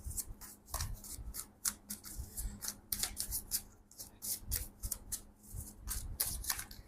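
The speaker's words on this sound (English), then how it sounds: "Let me give this deck a really good shuffle" A tarot card deck is shuffled up close, giving a steady run of quick papery riffles and rubbing bursts with no one talking.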